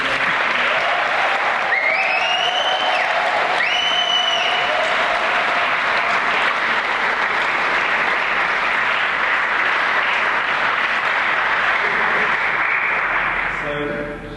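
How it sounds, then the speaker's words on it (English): Sustained audience applause at a gala for a young ambassador named Michaela, steady and full for about fourteen seconds with faint whistles or cheers early on, fading at the very end. "could we have a round of applause for Michaela"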